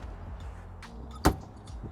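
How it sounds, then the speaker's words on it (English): A front hood latch on a 1956 Porsche 550 Spyder released with one sharp metallic click, close and brief, with faint handling noise before and after. "there's a little latch under here, you just push it to the left and it'll open up"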